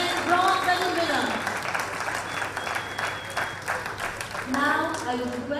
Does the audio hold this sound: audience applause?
yes